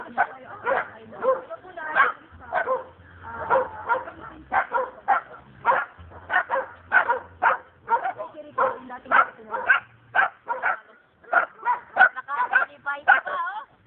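A dog barks and yips repeatedly in a fast, steady series of short, close barks, with some whimpering tones, continuing throughout with voices faintly present.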